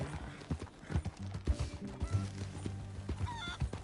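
Steady clip-clopping of horse hooves on hard ground in Red Dead Redemption 2, a rhythmic, fairly close trot with a few game-like honks and bird calls mixed in; no talking.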